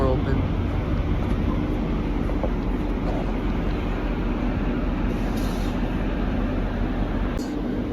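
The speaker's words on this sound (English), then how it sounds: "Here's the train right here." A low, steady rumble of a train idling or moving nearby at Port Jervis, New York, with continuous mechanical drone and faint clanks, no talk.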